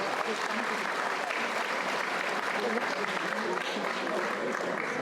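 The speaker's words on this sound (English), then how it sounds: "Let's give them a round of applause." An audience at a bar association's annual meeting breaks into steady, dense applause, a continuous wash of many hands clapping at moderate loudness for several seconds, with some voices mixed in.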